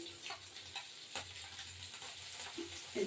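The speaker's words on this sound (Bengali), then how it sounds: "এবার ভাজা মাছটা এপিট ওপিট ভাজা হলো" Tengra fish fries in a pan after being turned to cook on both sides. There is a steady close sizzle with a few soft spatula clicks and stirring scrapes.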